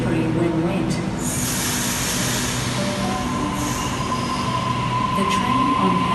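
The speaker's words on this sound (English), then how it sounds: "The train on platform 6 goes to Liverpool via Bankstown." A Sydney train rumbles loudly and steadily along the platform at Town Hall station, with high wheel squeal and metallic screeching over a continuous close roar.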